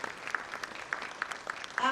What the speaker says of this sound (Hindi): लगातार आपकी तालियों का उद्घोष होता रहे